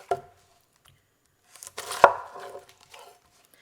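A knife cuts peeled onions in half on a board, giving a sharp chop at the start and a louder crunching cut about two seconds in, close and otherwise quiet.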